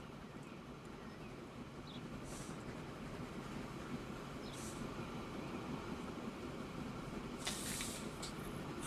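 A train pulling into a station in the Train Station Manager game, with a steady, low rumbling roll and a few brief hissing bursts of air, fairly faint and with no one talking.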